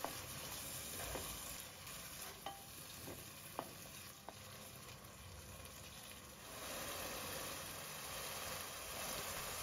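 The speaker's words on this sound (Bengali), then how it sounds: "নেড়েচেড়ে 3 মিনিটের জন্য চিংড়ি মাছগুলি কষিয়ে নিচ্ছি।" Cleaned prawns stir-fried in spiced oil, a quiet continuous sizzle with a few sharp spatula taps scattered through.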